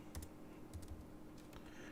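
Computer keyboard typing in short bursts of keystrokes, a few quick clicks clustered together, close and fairly quiet, with no talking.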